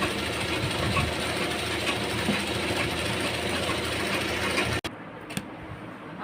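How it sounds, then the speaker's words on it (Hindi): A sewing machine running a double line of stitching on a petticoat: a loud, steady mechanical whirr of rapid needle strokes, close up, stopping abruptly near the end before a quieter pause. "अब इसमें हम डबल सिलाई कर देंगे"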